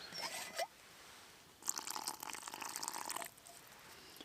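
Water pours briefly into pancake batter with a soft splashy gurgle, after a couple of small clinks, then stops; quiet and close.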